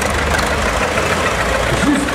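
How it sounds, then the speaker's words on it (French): A Renault P30 Vigneron tractor with a Perkins diesel engine rumbles at a low, steady idle during an old-tractor parade, a close continuous drone with a voice briefly heard over it. "sur un tracteur Renault P30 Vigneron avec un moteur diesel Perkins"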